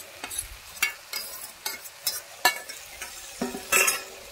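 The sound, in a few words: stirring fried hilsa fish head into cabbage curry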